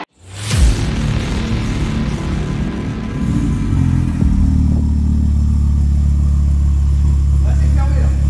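An Audi TTRS 500+ engine barks to life through a valved exhaust, a loud close start-up burst settling into a deep, rumbling idle that swells again partway through and holds steady.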